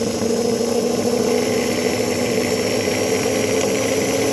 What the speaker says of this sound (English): as we go up, you get a little grinding noise, but I'm sure that's the wheels